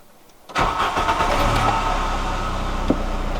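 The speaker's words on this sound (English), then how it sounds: "Give it a second, and let's see if she starts back up." A Volkswagen Golf that had been struggling to start cranks and catches about half a second in, then settles into a steady, close, loud idle with no talking.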